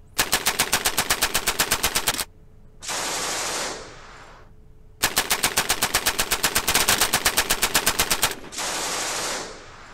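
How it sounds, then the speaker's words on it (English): Video-game tank machine guns rattle in long rapid bursts, alternating with gaps and bursts of broadband turret roar, loud and close with no talk over them. "firing machine guns at it, firing whatever turret rounds we have at it"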